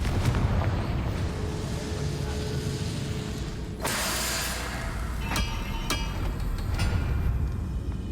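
In Hogwarts Legacy, the Confringo fire spell goes off as a sudden blast, followed by several sharp crackles and impacts over a steady ambient game background.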